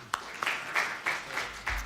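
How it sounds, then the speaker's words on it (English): Audience at an academic conference Q&A session clapping hands, a short round of applause with distinct clap bursts recurring about every third of a second, moderately loud in a hall. "Let's clap hands again"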